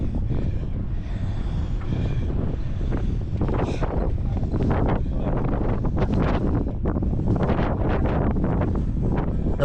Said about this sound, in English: The wind is starting to kick my ass here.